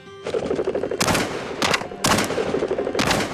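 Shotgun blasts during quail hunting in Arizona: four loud, sharp shots spaced roughly half a second to a second apart over a constant outdoor background of wind and rustling.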